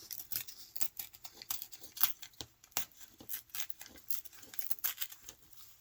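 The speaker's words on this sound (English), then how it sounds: "I'm just tearing." Paper is torn by hand, not cut with scissors, in a quiet indoor craft session. The tearing comes as a quick irregular series of close, faint rips and crinkles with short pauses between them.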